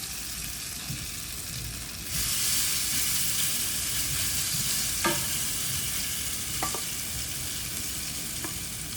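Spoonfuls of vegan zucchini fritter batter drop into hot oil, the frying surging into a louder, steady hiss partway through, with a few light clicks of a utensil against the pan.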